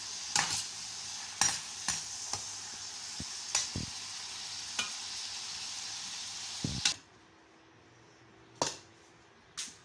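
Shrimp and chili are stir-fried in a pan, giving a soft sizzle under repeated sharp utensil taps and scrapes against the metal. The sizzle drops away partway through, leaving a few isolated clatters.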